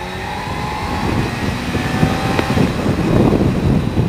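A Suzuki GSX-R750 SRAD motorcycle engine pulls in second gear on a road, a steady loud rising drone with wind rush, growing slightly stronger toward the end.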